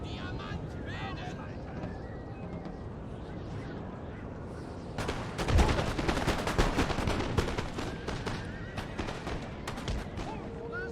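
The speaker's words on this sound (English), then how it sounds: "Did they just shoot their own cannons into their cavalry?" A dense stretch of booming cannon fire and crackling battle noise in the video game Napoleon: Total War, a rolling barrage that swells midway with overlapping blasts.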